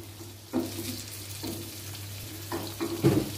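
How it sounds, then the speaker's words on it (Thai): Naem, a fermented pork sausage, frying with egg in a pan, giving a low steady sizzle with a few louder crackling bursts and scrapes, close by, with no talking. "ทอดแหนมใส่ไข"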